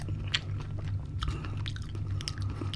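Close-miked chewing of vegetables, soft wet crunching and mouth sounds repeating steadily, with a low hum in the background.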